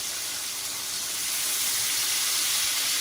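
Fresh lemon juice hits hot brown butter in a pan, setting off a loud, steady sizzling hiss that builds slightly and holds for a few seconds.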